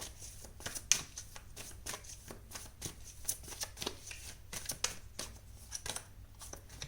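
Tarot cards being shuffled and drawn, a steady run of soft riffling flutters and snaps close by, continuing for several seconds without speech.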